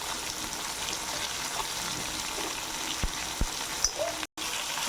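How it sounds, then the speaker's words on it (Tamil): Cubed potato and brinjal sauté in hot oil in a pan, giving a continuous close sizzle with a few soft stirring knocks and scrapes. "இதோட நம்ம அரிஞ்சு வச்சுருக்கிற உருளைக்கிழங்கு கத்திரிக்காயும் போட்டு நல்லா வதக்கிக்கலாம்."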